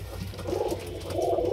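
Pigeons give soft, low coos in two swelling phrases, close by and clear with no talk.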